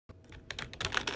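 Keycaps are being handled and moved around on a computer keyboard during colorful customization, with a run of quick, close plastic clicks and taps that grow busier toward the end, no talking.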